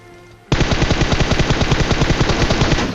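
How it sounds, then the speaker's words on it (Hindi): A machine gun in the PUBG Mobile video game fires a rapid sustained burst, loud and close, with evenly spaced shots rattling for about two and a half seconds after a quiet start. "उनका कुछ फायर आया था जो कि मेरे को सुनाई देता है"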